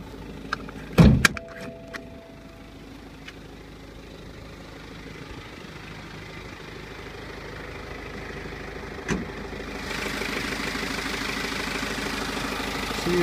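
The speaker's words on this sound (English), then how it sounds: "See, it's a twin turbo four cylinder diesel." A 2014 BMW 328d twin-turbo four-cylinder diesel idling with the hood open; a low, steady engine rumble with a sharp clunk and a rattle near the start and a brief knock midway, the idle growing slightly louder toward the end.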